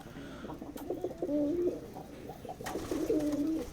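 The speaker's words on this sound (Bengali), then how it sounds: "একটা দেশি কবুতরের বাচ্চা ছিল" Domestic pigeons kept in a cage give soft, low, rolling coos in two drawn-out phrases, fairly quiet and close, with faint background noise.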